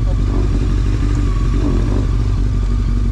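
A car that starts but runs poorly, being kept at high revs before a tow, gives a loud continuous engine drone throughout with a slight waver, close by.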